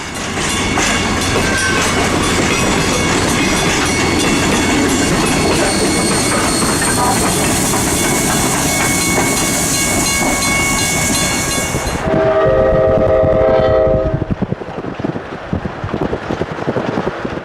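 A train, GSMR 1702 in the Smoky Mountains, rumbles and clatters past close by for a long stretch, then a horn sounds in loud, sustained blasts near the end.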